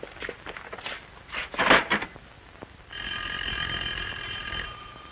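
A telephone with no dial rings in one sustained metallic burst lasting under two seconds, preceded by a few soft knocks and footsteps in a quiet room.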